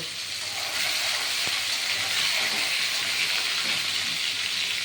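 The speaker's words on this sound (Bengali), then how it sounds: "এই আলুগুলো লবণ হলুদ দিয়ে মেখে রেখেছি এইটা ভেজে নেব" Potatoes coated in salt and turmeric fry in hot oil, producing a steady, fairly loud broadband sizzle and hiss that lasts the whole time with no talking.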